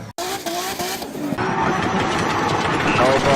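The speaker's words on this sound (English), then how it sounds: "We have a Supra. We're doing some donuts." Toyota Supra engine roaring and revving hard while spinning donuts, a loud sustained snarl with rising pitch sweeps and screeching tires, a voice talking over it.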